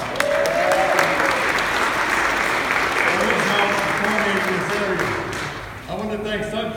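A crowd applauds steadily at the grand opening ceremony for the El Rio Health Cherrybell center, with dense, even clapping that fades slightly near the end while voices carry over it.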